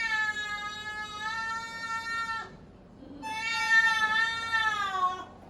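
Deaf male cat during a veterinary ear exam letting out two long, loud, drawn-out yowling meows, the second rising after a brief pause, close and clear with faint handling noise.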